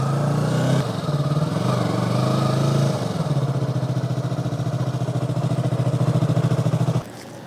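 Yamaha R3 motorcycle engine idling and rumbling steadily up close while being parked, with a brief blip in pitch near the start and a drop in level before cutting off near the end.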